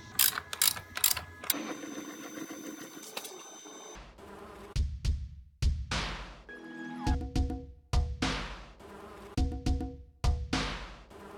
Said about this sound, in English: Alright, so now I can lock these tie downs.